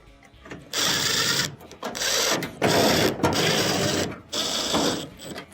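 A power driver runs in several short bursts as screws go back in around the perimeter of a clothes dryer's back panel, each whirring spin lasting about a second with brief pauses between, loud and close.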